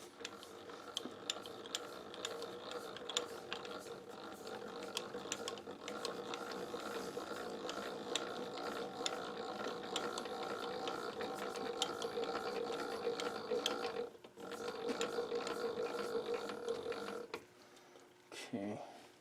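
Mechanical whirring and ratcheting as the head of a milling machine is lowered toward a workpiece, a steady machine drone with gear clicks running throughout before dropping away near the end.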